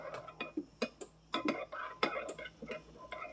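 A spoon stirs oatmeal in a bowl, giving a string of close, irregular clinks and soft scrapes against the bowl, with faint murmured speech underneath.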